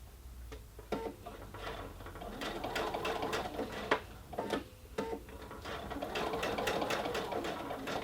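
A sewing machine stitches a sleeve header in quick rhythmic bursts, the needle chattering in short runs with brief pauses between them, close and moderately quiet.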